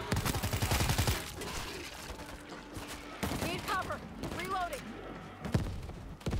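Gas cylinders blowing up in the zombie shooter World War Z: Aftermath, heard as a burst of rapid heavy blasts followed by scattered gunfire and thuds. A voice speaks over the noise, and shrill zombie-like cries rise in the middle.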